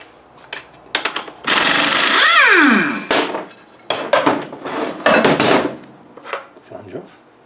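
Pneumatic impact gun spinning the flange nut off a Wolf LT230 transfer box: a loud, sustained rattling burst of about a second and a half, framed by sharper metallic knocks and clanks from handling parts.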